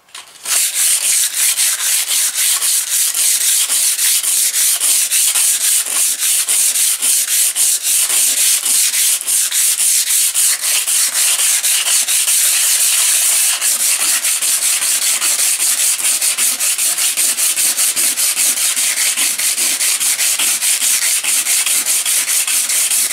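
Continuous, loud abrasive sanding of a boat keel with a rapid rhythmic scrubbing texture, steady and close throughout with no talking.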